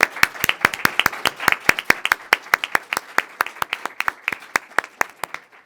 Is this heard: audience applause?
yes